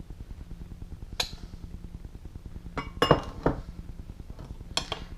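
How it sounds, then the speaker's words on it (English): A utensil stirs carp hook bait mix into egg in a bowl, with rhythmic clinks and scrapes against the bowl and a few sharper knocks, close and clear, no talking. "And just start to mix it around."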